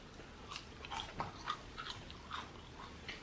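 A McDonald's Quarter Pounder with cheese being chewed close up, with soft, steady mouthfuls of wet chewing and light bites repeating in an even rhythm, with no talking.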